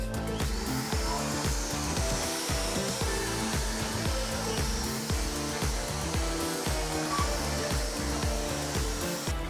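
A steady, loud vacuum motor drones continuously with a rough, rattling texture as it sucks up sanding dust from a hardwood floor.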